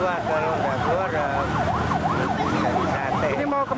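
A fire truck siren wails in a repeating up-and-down cycle, fairly close and loud, over traffic noise on a jammed street in Indonesia, with faint voices underneath.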